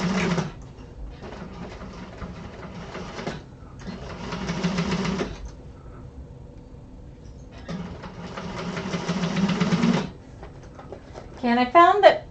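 A sewing machine stitches a seam in several bursts of steady whirring separated by pauses, close and fairly loud, with a voice talking over parts of it.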